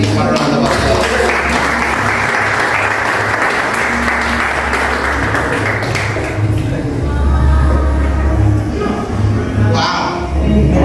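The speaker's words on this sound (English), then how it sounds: "Give them a round of applause." Loud, sustained applause fills a hall in Jamaica as an audience welcomes speakers, clapping continuously and close for about ten seconds before thinning near the end.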